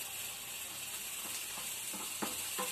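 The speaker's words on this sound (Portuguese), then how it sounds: "Começou a fazer o barulho normal de panela de pressão" A pressure cooker cooking rice hisses steadily at a low level, a continuous sizzling steam sound with a few soft clicks toward the end, heard alone without talk.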